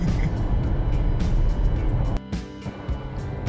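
Cars hum and swish past on a highway on the approach to Eskişehir in early-morning traffic, a loud continuous road rumble that drops briefly partway through, with no voices.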